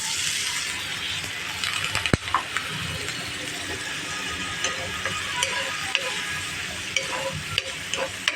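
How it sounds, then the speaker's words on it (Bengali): Spice paste for a dried-pea ghugni sizzles loudly in a pan with a little water as a spoon stirs and scrapes, with frequent sharp metallic clicks against the pot. "মশলাটাকে সুন্দর করে আমি কষিয়ে নিব"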